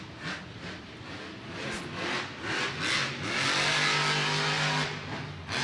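Monster truck engine at a Monster Jam stadium show in Orlando, 2021, roaring and revving in repeated surges with a sustained loud rasp, echoing through the arena without talk.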